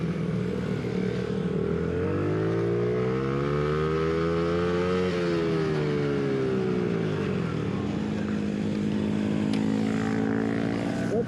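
Kids on 50cc mini GP motorcycles come past at a mini GP coaching camp, their small engines revving high with a rising then falling whine, loud and steady, with the buzz lingering as more bikes follow.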